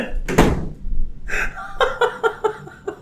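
A door being shut in a room during a casual podcast gives one solid thud near the start, followed by breathing, chuckles and a run of soft knocks.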